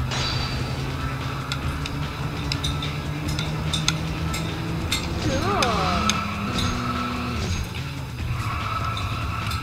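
A car handbrake turn in an arcade racing video game, with a rising, wavering tire squeal sweeping over a steady engine drone and background music while someone talks.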